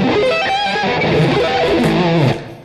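A distorted electric guitar plays a quick sweep-picked rake, starting on an upstroke, sweeping across the strings, loud and sustained, then cuts off abruptly.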